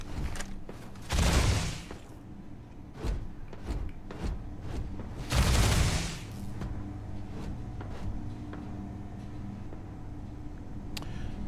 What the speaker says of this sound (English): I hear gunfire, but I don't know what it is